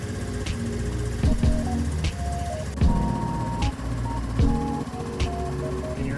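A Honda Navi's small cold engine idling roughly, its uneven chugging dipping and surging as if about to stall, with a few faint clanks.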